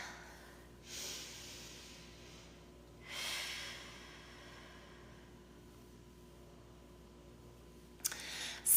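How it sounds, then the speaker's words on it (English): Slow, deep exhales during a yoga practice in downward facing dog, two soft airy breaths a couple of seconds apart, close and quiet, followed by stillness and a brief click near the end. "take a moment here to breathe and release anything with that exhaling of the breath"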